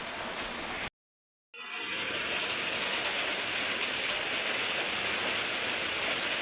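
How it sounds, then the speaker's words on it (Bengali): Steady rain falls continuously outside a home, heard as an even, dense hiss. After a short silent gap near the start it returns and keeps going to the end. "আর কি বৃষ্টি, দাঁড়াও দেখাচ্ছি বৃষ্টিটা।"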